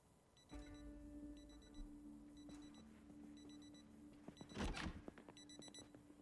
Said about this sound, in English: Somebody's got an alarm on a watch.